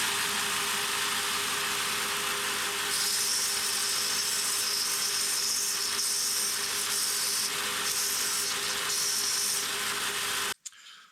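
A belt sander whirs steadily against wood for several seconds, its pitch shifting slightly as pressure changes, then cuts off abruptly.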